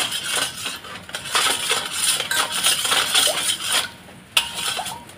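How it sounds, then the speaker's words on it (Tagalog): A metal spoon stirs salt brine for soaking milkfish, giving a steady run of close clinks and scrapes against the container, with one sharper knock near the end. "So ayan, haluin natin siya. Ang kutsara pang halo ko."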